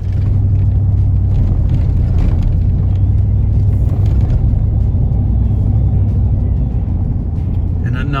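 Steady road drive through sunny East Texas countryside, a continuous low engine rumble and tire hum from inside the car, even and unbroken throughout.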